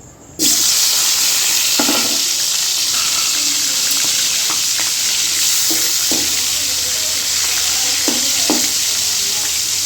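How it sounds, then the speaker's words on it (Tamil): Dried salt fish sizzles hard in hot oil for a curry, a loud steady frying hiss that starts abruptly and runs throughout, with a few light clinks of a utensil against the pan. "கருவாடை பாருங்கள் எல்லாத்தையும் எண்ணெயில் போட்டுருவோம் நல்லா எண்ணெய் காஞ்சிடுச்சு இப்போ நம்ம போடலாம்"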